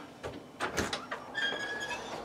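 A house door to the back garden slides open with a few scraping knocks followed by a thin, drawn-out squeak, close and fairly quiet.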